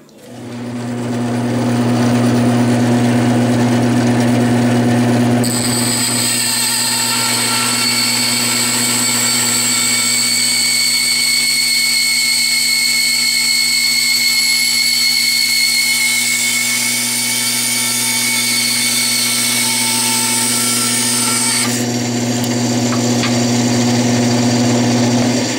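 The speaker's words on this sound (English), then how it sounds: "we'll just use the bandsaw to cut the portion that I need" A bandsaw runs steadily while cutting a bone blank for a guitar nut, a loud continuous motor whine with a steady hum and a brief change in tone as the blade works through the bone.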